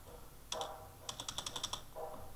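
A computer keyboard is typed on in a quiet room: one short keystroke, a pause, then a quick run of about eight soft clicks.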